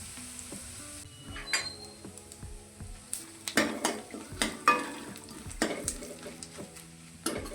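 Chili powder sizzles in hot tempering oil in a pan, with a steady fry hiss and repeated metal stirring scrapes and clinks growing busier in the second half.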